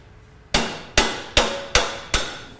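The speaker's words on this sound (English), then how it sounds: "let's talk about how hand hammering it versus leaving it up to a machine really makes all the difference" Five sharp metallic strikes of a hand hammer on a bronze cymbal of 80/20 copper-tin alloy, evenly spaced, each ringing and decaying before the next blow, close and clear.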